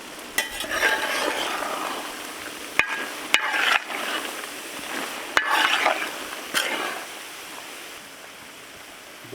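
Sheep offal curry with natti masala being stirred and fried in a pan, a steady sizzle broken by several sharp scrapes and clanks of the spoon against the pot, close and with no voices.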